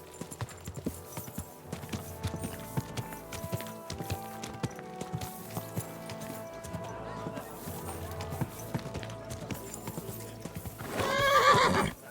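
Horse hooves clip-clop steadily throughout alongside game music in Kingdom Come: Deliverance II, with a loud whinny near the end.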